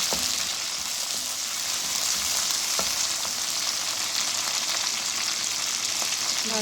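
Onions fry in a pan for a daal mash while ginger garlic paste is added, giving a steady, dense sizzle with a few soft stirring clicks, close and without talking.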